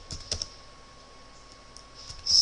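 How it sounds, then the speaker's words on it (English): A search keyword is typed on a computer keyboard, giving a few light key taps close by in a quiet room, ending in a slightly louder flurry of keystrokes. "Now if I type in up here free"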